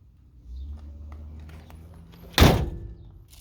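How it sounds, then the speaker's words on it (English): A door on a 1967 GMC Suburban shuts with a single loud, solid thunk after a few seconds of quiet handling noise. "Doors closed good."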